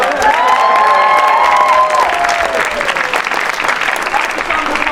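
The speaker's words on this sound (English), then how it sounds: "Can we please have a massive round of applause for Shango Park?" A big round of applause at a 25th anniversary celebration, loud continuous clapping with cheers, and a voice speaking over the start of it.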